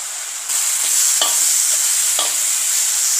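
Tomatoes and spices sizzle in hot oil as a tadka for an aloo gajar matar sabzi, a constant bright frying hiss broken by a few quick spoon scrapes and taps against the pan.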